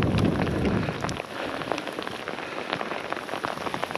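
Steady rain patters on surfaces during a hike in Sonfjället National Park in Sweden, a dense, even hiss that stays constant and close with no voices.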